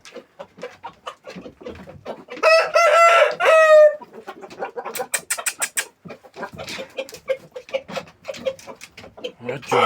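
A farmyard rooster gives one loud, close crow lasting over a second, with clucking and other bird calls scattered around it and a person talking briefly nearby.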